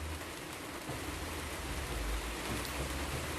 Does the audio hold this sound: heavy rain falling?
yes